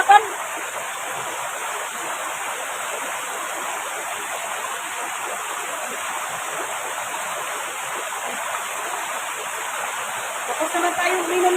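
Steady rushing and splashing water from someone bathing outdoors, a continuous broadband wash that stays loud and even throughout with a brief splash at the start and livelier spatters near the end.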